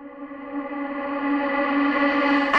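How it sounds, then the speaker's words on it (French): A filtered vocal from a song, treated with a reverse reverb effect, swells steadily in loudness as a sustained, smeared tone that brightens toward the end, with no talking over it. "Alors, la reverse reverb, comment ça marche?"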